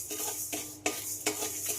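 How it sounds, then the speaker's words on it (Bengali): White mustard seeds and a dry red chilli frying with spices in a pan, heard as a soft steady sizzle broken by a few sharp scraping stir strokes, close and alone. "এই সর্ষেটা দিয়ে কিন্তু বেশি ভাজা যাবে না, হালকা একটু ভেজে নিতে হবে।"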